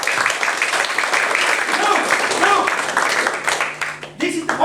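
Audience applause at a live magic show at an arts festival, a dense crowd clapping steadily with cheers and voices mixed in throughout, dipping briefly near the end before swelling again.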